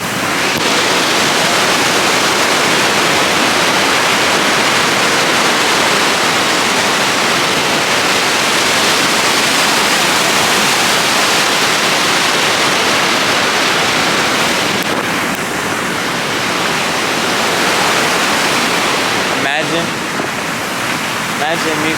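A waterfall's rushing water roars loud and close in a dense, unbroken wash for the whole stretch. A voice is faintly buried beneath it.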